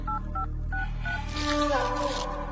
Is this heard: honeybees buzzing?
no